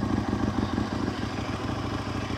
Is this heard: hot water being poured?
no